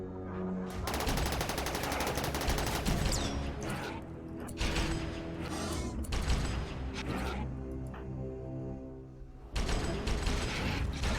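Gunfire in the colony game RimWorld, with a raid in Wendigo company against a broad shield: dense rattling bursts of automatic shots and clicking mechanical clatter, broken by a couple of short pauses, loud throughout and without speech.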